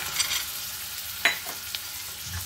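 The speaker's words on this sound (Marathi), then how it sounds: "हे सगळं व्यवस्थित परतून घ्यायचं। कांदा थोडासा भाजला की याच्यामध्ये आपण ॲड करूयात मटार" Onion and peas sauté in a pan, giving a soft continuous sizzle with a few light scrapes and taps from stirring, close by.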